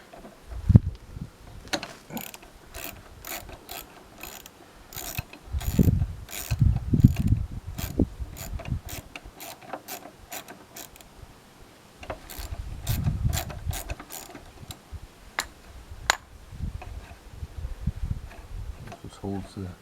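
Ratchet wrench clicking rapidly in repeated bursts while loosening the brake caliper bolts on a Honda CBF125 motorcycle, with metallic pawl ticks close by and a few quiet mechanical clunks between runs.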